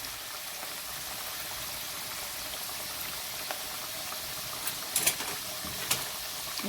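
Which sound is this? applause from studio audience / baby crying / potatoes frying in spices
potatoes frying in spices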